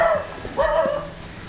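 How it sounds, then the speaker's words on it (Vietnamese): A dog barks in a rural Central Highlands setting in Đắk Lắk, Vietnam, giving two or three short, fairly close barks with a brief gap between them. "Chó sủa."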